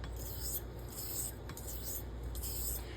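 A straight razor honed on an Ardennes coticule stone with slurry and light pressure gives a continuous close, gritty rubbing rasp with slight rhythmic swells across the strokes.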